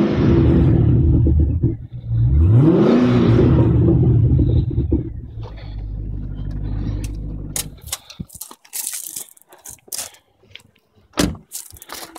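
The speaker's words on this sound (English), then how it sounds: "I'll just give it a rev for you." A 6.2-litre HSV Maloo ute engine is revved hard twice, each rise swelling into a deep loud roar then settling to idle, followed by scattered clicks and knocks.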